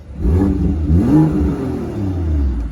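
A BMW M2 3.0 DCT two-door coupe engine revs loudly and close up, rising and falling in steady swells across the whole clip with no talking.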